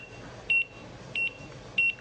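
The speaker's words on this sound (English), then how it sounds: "This is a kitchen timer. This is a very, very loud one." A very loud kitchen timer beeping, three short evenly spaced high-pitched electronic beeps over faint background noise.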